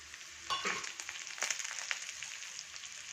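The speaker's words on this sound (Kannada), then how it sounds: "ಇದು ಸ್ವಲ್ಪ ಫ್ರೈ ಆಗಲಿ." Onions fry in a hot pan, crackling and sizzling, with a brief burst of stirring louder near the start and again midway.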